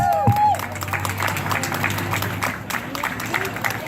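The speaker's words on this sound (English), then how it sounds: "Let's give them a round of applause" A crowd at a Democratic Party political event in Texas applauds, a sustained patter of many hands clapping at moderate level, with faint voices and a brief tonal sound at the very start.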